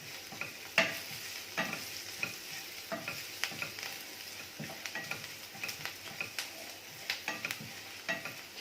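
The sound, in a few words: urad dal frying in oil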